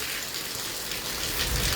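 Heavy downpour in Hisar, a dense, continuous hiss of pounding rain that swells slightly louder toward the end, with no voices.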